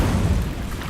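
Incendio fire spell cast in Hogwarts Legacy, a short dense low boom with a fiery rumble filling the whole moment, loud and close, with no voice over it.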